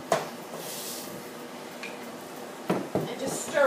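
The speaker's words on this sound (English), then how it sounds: "And then I'm going to add the rice." Rice poured into juice in a cooking pot, with scraping clinks of a utensil against the pot at the start and again near the end, a quiet rustle between and a voice speaking lightly over it.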